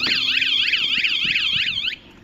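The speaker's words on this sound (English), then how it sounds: "you can hear that it's quite an annoying alarm" A Vanguardian motorhome alarm system sounding loud and close, a rapid warbling electronic siren that sweeps up and down repeatedly before cutting off abruptly near the end.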